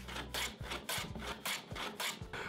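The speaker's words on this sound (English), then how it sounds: "I'm drilling holes for the handle part on the back piece, and then cleaned out the waste in between with a chisel" Hand tools working a wooden back piece for a plastic bag dispenser: repeated rhythmic rasping strokes, about eight in steady succession, close and fairly quiet with no talk.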